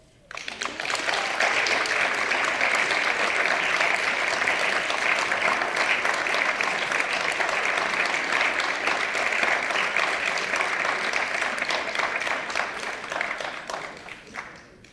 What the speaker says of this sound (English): one more round of applause for our winners